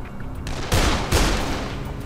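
Gunshots in the video game Dead Island, two loud close blasts about half a second apart over a low rumbling background, with no talking.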